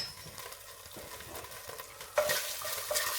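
Thai red curry mixture cooking gently in a pan on low heat, with soft steady sizzling and a louder burst of frying noise partway through, close by.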